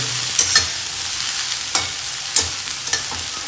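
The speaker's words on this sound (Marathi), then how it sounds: "मोहरी, मिरची, लसूण, कढीपत्ता आणि मीठ टाकतोय." Mustard seeds, chilli, garlic and curry leaves with salt sizzle loudly in hot oil in a pan for okra bhaji, a continuous close hiss punctuated by several sharp taps and scrapes of stirring.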